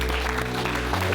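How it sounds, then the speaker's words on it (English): Applause from an audience, a dense steady patter of clapping lasting about a second with a low hum beneath it. "give a big round of applause."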